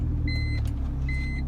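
A BMW E46 M3 sits running just after start-up, a steady low engine rumble with two brief high electronic chimes over it, close and constant.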